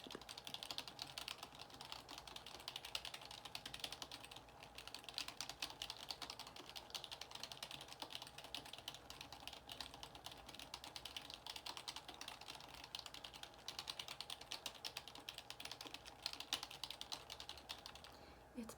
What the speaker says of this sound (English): I gotta get this all typed up for you on my writing tablet.